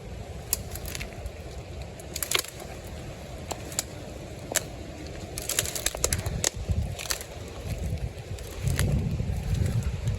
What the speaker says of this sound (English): This is probably the windiest day I've ever seen in my entire life.